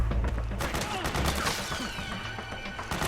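Rapid gunfire from the Metal Gear video game, dense bursts of shots running over a low rumble through the whole stretch, loud and close with mechanical clatter mixed in, and a voice briefly over it.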